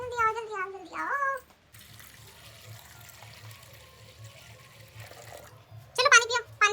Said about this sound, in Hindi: पानी डाल दिया मम्मा ने